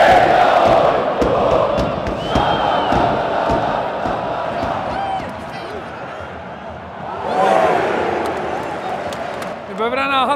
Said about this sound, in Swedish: Nu får de publiken med sig igen.